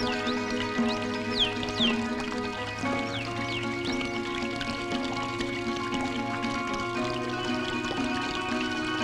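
Water poured from a pot for drinking in a Tamil comedy film scene, a continuous splashing, gurgling pour with dripping, heard close under a faint musical background.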